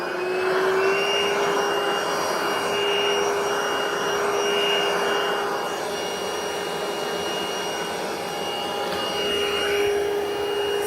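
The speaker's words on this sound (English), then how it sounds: "I'm going to use the power latch to be able to hoover." A Vax cordless stick vacuum cleaner with a reach wand and power head hums steadily at close range, a constant high-pitched motor whine that holds level throughout with no talking.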